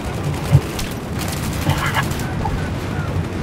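Muffled booms and bursts of gunfire from a video game rumble in the background, a few distinct thuds among a continuous low clatter.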